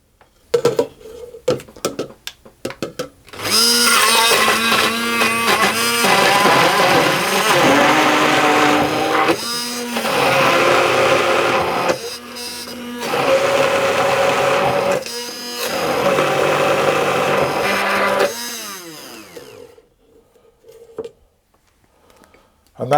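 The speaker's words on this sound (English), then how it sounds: "with immersion blender." An immersion blender pureeing spiced figs into a paste, whirring loudly in several long bursts with brief pauses between, close up, with a speaking voice at the start and end.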